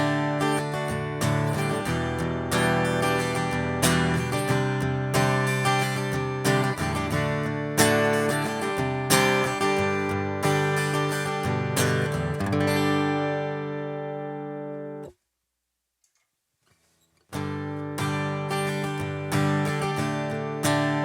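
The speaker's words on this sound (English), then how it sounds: "You're only hearing the guitar. That's the direct signal you're hearing there." Strummed guitar chords through a Line 6 Pod Go, dry direct signal, repeat in a loop, bright and rhythmic, cut off by a couple of seconds of silence before the strumming resumes.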